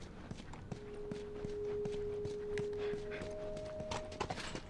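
A horse's hooves clip-clopping at a steady walking rhythm in The Last of Us, faint and close, with a sustained tonal hum running underneath part of the time.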